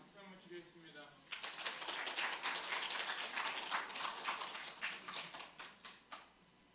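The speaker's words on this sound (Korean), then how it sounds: "박수 한번 드리겠습니다." Warm applause from a church congregation at a retreat, starting abruptly after a brief murmur and continuing as dense clapping that thins out into scattered claps near the end.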